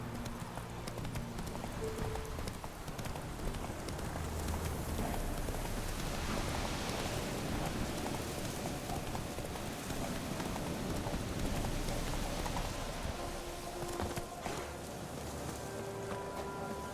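Geralt's horse Roach gallops in The Witcher 3 video game, hooves pounding in a fast, steady rhythm through the whole stretch over a constant rain-like background wash, with faint game tones appearing briefly.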